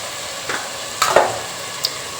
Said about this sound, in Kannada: ಅಷ್ಟೇ ಚೆಂದಾಗಿ ಮಿಕ್ಸ್ ಮಾಡ್ತೀನಿ